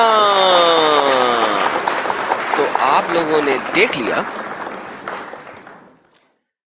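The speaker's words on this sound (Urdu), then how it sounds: "تالیاں!" An audience breaks into loud applause that swells at once, then thins into scattered claps and fades out, with someone speaking over it.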